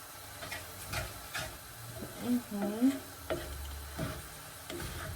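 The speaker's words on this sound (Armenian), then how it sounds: "5 րոպե և մի քիչ էլ ավել տապակելու եմ" Food sizzles quietly in a pan while a utensil scrapes and taps against it in irregular stirring strokes, soft and close.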